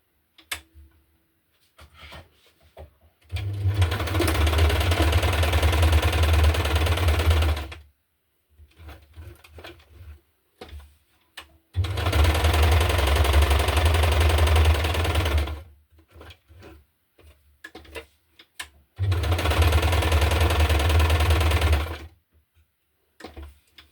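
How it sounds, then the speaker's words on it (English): Sewing machine stitching through layered paper and fabric journaling cards, running in three steady bursts of several seconds each with quiet pauses between. "starting with bit of 2 or 3 stitches forward and back, and then just going around and back stitch at the end again."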